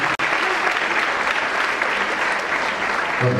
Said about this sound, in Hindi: जोरदार तालियां बंदी है